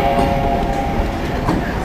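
Oil Creek and Titusville Railroad train pulling away from Perry Street Station, its steady loud rolling rumble and wheel clatter close by, with a sustained horn-like tone running underneath.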